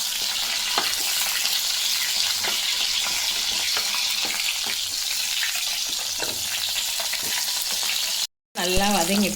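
Brinjal (eggplant) sautéing in hot oil with asafoetida for Tamil kara kuzhambu, a steady close sizzle and frying hiss with occasional spatula stirs, no talk, briefly cut off near the end.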